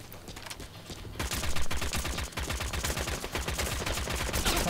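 Rapid bursts of video-game gunfire from Metal Gear Online 3 in an online match, rattling loud and dense after a quieter opening second, with repeated volleys continuing to the end.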